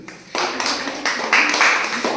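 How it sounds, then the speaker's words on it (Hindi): A small group claps hands in a classroom after a litmus test, a short burst of fairly close, uneven applause that thickens briefly before tapering off. "ताली बजा दो जिसके लिए।"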